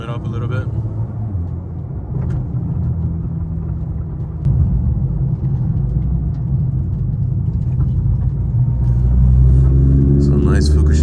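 A custom-built Nissan GT-R engine drones and rumbles steadily while warming up on Fukushima countryside roads, low and loud from inside the car, swelling slightly later on, with someone talking over it.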